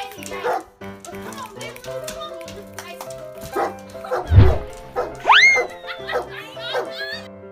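A large caged dog and a puppy bark and yip in short bursts, with a whimpering yelp partway through, while people talk and laugh nearby.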